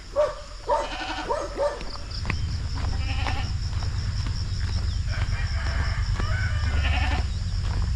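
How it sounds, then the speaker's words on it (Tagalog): A goat bleats several times at the start, then a low rumbling and shuffling noise continues with faint animal movement. "Nagmamadali yung kambing natin."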